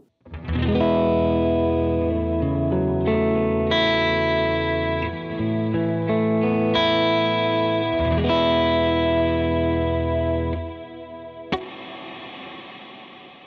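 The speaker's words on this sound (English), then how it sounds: "So you can hear it is pretty washy and big." Electric guitar chords through a Cloudburst reverb pedal, drenched in a big, washy reverb, ringing and overlapping as they sustain, with a long decaying tail after the last strum.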